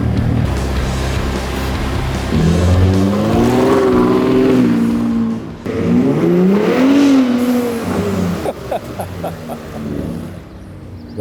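2023 Ford Raptor fitted with a Turbosmart vent-to-atmosphere blow-off valve, driven in a parking lot: two surging rev rises with whooshing valve releases, loud and close, then fading engine sound.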